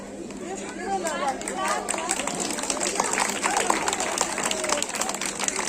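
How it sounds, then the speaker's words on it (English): Audience at a school Independence Day celebration applauds after a dance performance, a steady wash of clapping mixed with crowd chatter and murmuring voices, filling the hall at moderate loudness for several seconds. "Please give a huge round of applause."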